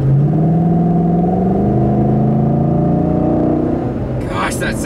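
A stock 2010 Ford Mustang GT Premium V8 idles with a deep, loud, rumbling burble and its tone drifts slightly over several seconds, ending in a short burst of sharp noise near the close.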